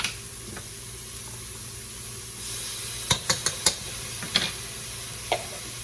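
Ground beef with garlic and salt sizzles in a pan for tacos, a steady hiss punctuated by a quick run of sharp spoon scrapes and taps against the pan, then a few more spaced knocks.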